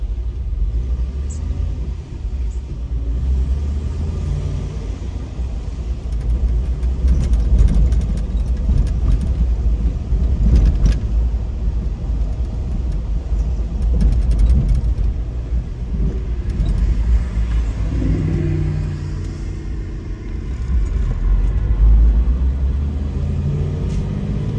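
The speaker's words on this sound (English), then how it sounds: "So this is my drive from Ffryes Beach right back into St. John's." A car driven along the road from Ffryes Beach back into St. John's, Antigua, with a steady low engine rumble and road noise throughout, and no talking.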